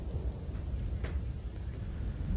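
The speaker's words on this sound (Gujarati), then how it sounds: "જ્યાં આગળ હજી પણ ભારે પવન સાથે વરસાદ ચાલુ છે" Heavy rain driven by strong wind makes a continuous rushing, gusty noise up close. A brief brighter burst of noise stands out midway.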